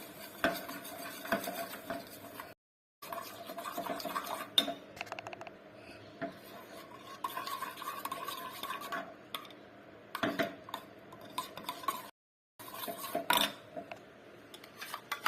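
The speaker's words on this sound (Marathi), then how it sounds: "हलवत राहायची. जोपर्यंत ही अशी सोनेरी होत नाही." Sugar being stirred in a pan as it turns golden for caramel custard, with a metal spoon scraping and clinking against the pan in steady bursts and two brief silent gaps.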